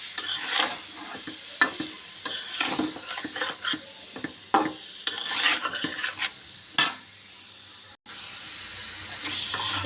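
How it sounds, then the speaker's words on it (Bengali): Baila fish curry with chili powder, turmeric and salt is stirred in a sizzling pan. Close, uneven scraping strokes run over a steady fry hiss, with a brief dip near the end and no talking. "মাছটা আমি এবার মাছ করতে নাড়াবো"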